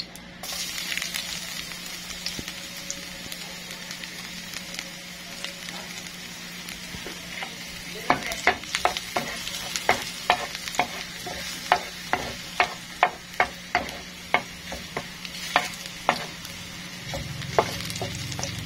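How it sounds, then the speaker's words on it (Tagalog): Garlic hits hot cooking oil in a pan with a steady broad sizzle, joined halfway through by a run of sharp clicking spatula strokes against the pan, no voices. "Ilagay na natin yung ating bawang."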